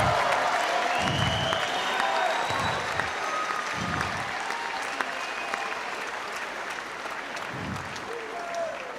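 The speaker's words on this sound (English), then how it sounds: "So let's give him another round of applause," Sustained crowd applause and cheering fill an arena after a heavyweight boxing bout, a broad, continuous roar heard from a distance, with a few muffled voice-like murmurs underneath.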